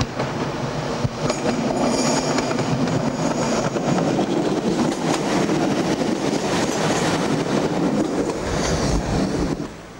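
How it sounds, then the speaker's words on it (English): Class 150 diesel sprinter trains running near Droitwich in 1996, a steady loud rumble of engine and wheels on rails with faint clicking and squeal, continuous throughout with no talk. "Class 150 diesel sprinters head down through Droitwich"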